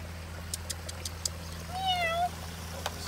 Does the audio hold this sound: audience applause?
no